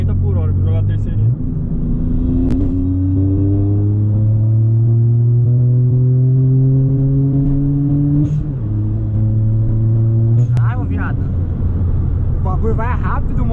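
VW Up TSI stage 3 car on air suspension accelerating in third gear at night: engine note climbs steadily through the rev range, drops briefly at a shift, then rises again, loud from inside the cabin while people talk.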